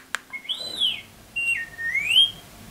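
R2-D2 droid sound effects, triggered from a remote on a full-size R2-D2 build, give two sweeping electronic whistles. Each rises and falls like a chirp and comes after a short click, heard close with no talk.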